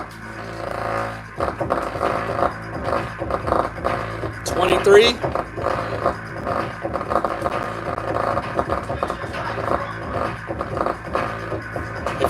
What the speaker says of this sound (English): we're trying to blow this little speaker here